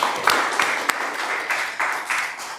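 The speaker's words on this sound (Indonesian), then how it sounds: "tepuk tangan buat Fakih" Classroom of students giving a round of applause for a classmate, a short burst of fairly close, steady group clapping with a few sharper individual claps standing out.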